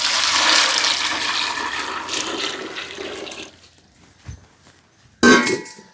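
Boiling water pours into a vessel in a steady, close gush for about three seconds, then trails off, followed by a brief clatter and a sharp splash near the end.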